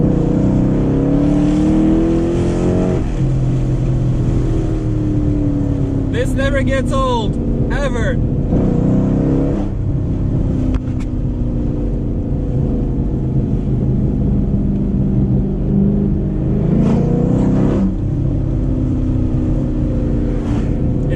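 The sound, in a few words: cammed 2006 Chrysler 300C SRT8 exhaust revving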